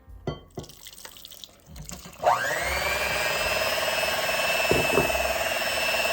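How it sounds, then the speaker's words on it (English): Water poured from a tap into a bowl of cupcake batter with butter and eggs, starting after a few kitchen clatters and then running as a steady, loud, close stream to the end. "I'm just gonna go ahead and add my water in here"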